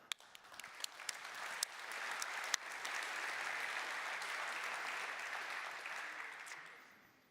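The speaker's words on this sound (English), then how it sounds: "And final clap for Andreas" Conference attendees at a Checkmk monitoring event applaud from a moderate distance: a few scattered early claps swell into a steady, even round of clapping, then it begins to taper at the end.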